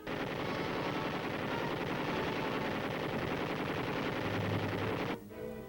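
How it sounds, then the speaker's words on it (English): Machine guns fire live ammunition over a combat training course, a dense unbroken roar of rapid bursts that holds for about five seconds and then cuts off abruptly, leaving quieter noise. "guns fire live ammunition over the heads of the men as they crawl 75 yards toward the finish line"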